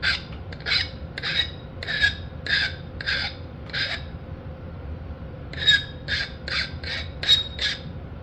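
The edge of a flint core is ground with a hammer stone during knapping: a series of short, rhythmic rasping strokes, then a pause and a second quick run of scrapes, close and crisp.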